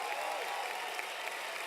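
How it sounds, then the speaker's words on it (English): A crowd at an ACN business event gives a sustained round of applause, a soft, even wash of many hands sounding distant and faint. "Let's give our co-founders and ACN another big round of applause."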